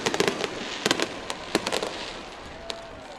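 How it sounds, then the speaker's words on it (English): Fireworks burst overhead at a high school football game, a rapid cluster of sharp cracks and bangs followed by scattered single pops, fairly distant and echoing across the stadium. "Fireworks still going off."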